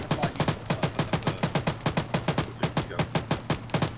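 A .50 caliber machine gun firing in the video game Arma 3, with a steady rapid run of heavy, evenly spaced shots that thump loudly close by throughout, with no pause.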